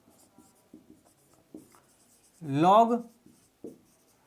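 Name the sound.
writing on a board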